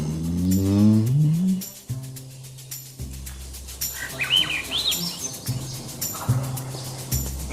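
Wild turkey tom gobbling outdoors in a double gobble, a loud rapid warbling burst early on, followed by chirping songbirds and other bird calls in the background.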